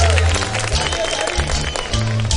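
Loud studio audience applause on a Pakistani game show, dense clapping and cheering filling the whole stretch with steady, crowded energy and a low hum underneath.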